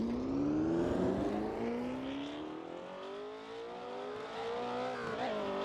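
A 1968 Porsche 908 race car in the Assetto Corsa racing sim, its engine note climbing steadily through the gears in a loud, continuous drone with no talk over it.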